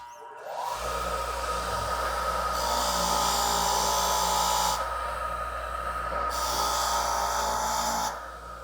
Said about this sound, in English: We're going to give it to the wire wheel, and then once it's nice and shiny, we'll go ahead and degrease it